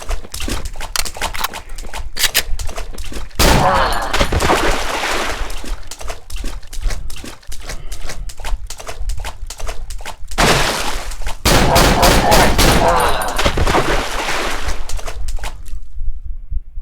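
Rapid gunfire in the horror video game Cry of Fear, loud dense bursts of shots with brief pauses between volleys, sounding close and continuous for most of the stretch.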